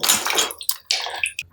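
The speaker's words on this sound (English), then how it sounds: "We're going to have some water come out while we do this." Water gushes from a tap in an empty house in bursts, loud and close, pausing briefly between runs, with splashing and a few clicks.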